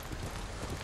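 In Ghost of Tsushima, a horse's hooves beat in an even clip-clop pattern, fairly close, over a constant background wash of game ambience.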